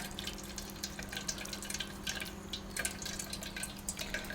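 Liquid being strained off shrimp shells in a kitchen, a steady soft trickle and patter of draining broth with faint drips, quiet and continuous.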